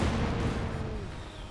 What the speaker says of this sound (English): or will he try for another Katyusha? Another barrage.